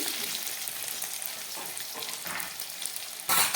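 Potatoes go into hot oil already frying cumin seeds and a bay leaf, giving a steady close sizzle that swells louder at the very end as the pieces hit the pan.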